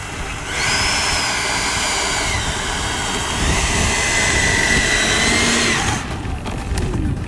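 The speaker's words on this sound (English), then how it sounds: "The jet howls and screams through the air with the extra volt of power" An RC F-14 Tomcat model jet with an inrunner motor and high-voltage battery passes with a loud, steady, high-pitched whine and roar lasting several seconds, then drops away abruptly near the end.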